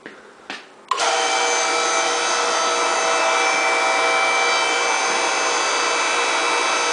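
A hydraulic tube bender bends roll cage tubing to 90 degrees, starting with a couple of short knocks and then running as a loud, steady motor and pump whine that holds unbroken to the end.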